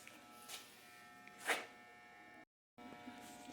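Welding brackets onto a car seat frame for a 1929 Ford Model A coupe, heard as a steady electric buzz with a few brief louder crackles, cut off by a short silent gap before the buzzing resumes.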